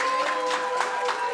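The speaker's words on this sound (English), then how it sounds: "Can we have a warm round of applause from our audience?" Warm round of applause from a studio audience at a vending business show, steady clapping under a faint sustained tone, moderate in level and continuous without speech.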